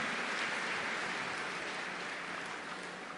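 Dense, continuous applause from an audience at a talk by Rajyogini Dadi Janki, an even wash of many hands clapping that fades slightly toward the end.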